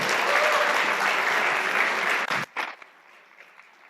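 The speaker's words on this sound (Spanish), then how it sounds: "Un aplauso, por favor." Dense audience applause at a game-developer meetup, loud and steady for over two seconds before breaking into a few last scattered claps and fading to near silence.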